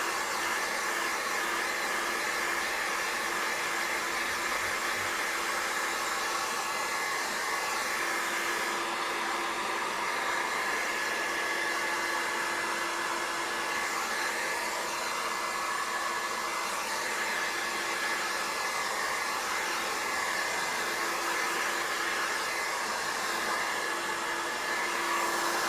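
Heat gun blowing hot air in a continuous steady hiss and whine, close and alone, with no talk.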